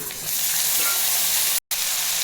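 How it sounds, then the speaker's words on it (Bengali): Chopped onion and ripe bitter gourd sizzle in hot oil with a loud, dense, continuous hiss that swells after a brief start. A momentary dropout occurs near the end, and no one speaks. "গরম গরম তেলে দিলাম পেঁয়াজ কুচোনো আর দেব পাকা উচ্ছে কুচোনো"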